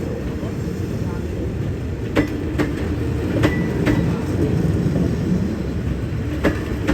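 Special freight train 985 arrives at Surat Thani station about fifteen hours late, a loud, steady rolling rumble with several sharp wheel clicks and clanks scattered through it.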